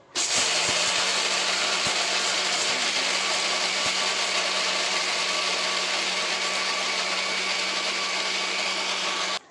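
A mixer grinder coarsely cracks wheat grains into pieces for homemade poultry feed, running as a loud, constant motorized whir with a gritty rattle from start to finish.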